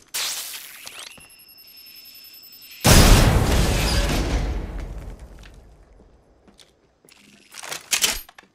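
A grenade detonates in Apex Legends with a sudden loud boom that rolls off into a long decaying rumble, followed a few seconds later by brief sharp game effects.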